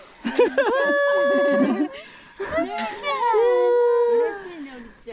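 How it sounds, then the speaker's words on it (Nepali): A dog in Hakuba, Japan, gives two drawn-out, wavering howling whines in close succession, near and fairly loud. "कति क्युट कुकुर"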